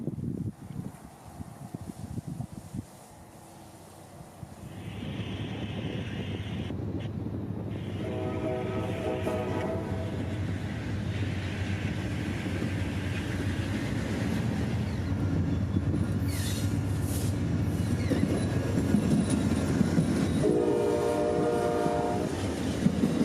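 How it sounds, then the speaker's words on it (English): An Amtrak passenger train crossing a long bridge over a lake rumbles past steadily at a distance, sounding two long horn blasts, one partway through and another near the end. "Amtrak 20 showed his face, gliding over the last mile of the 7-mile bridge over the lake."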